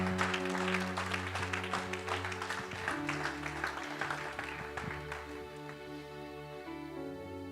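A church congregation clapping and cheering for the Lord, dense sustained applause mixed with a tonal organ-like hum, steady throughout and gradually easing toward the end.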